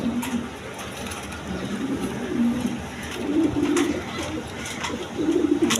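A pair of pigeons kept for sale with eggs and chicks coos in low, repeated murmurs under steady background noise, close by and moderately loud, with no speech.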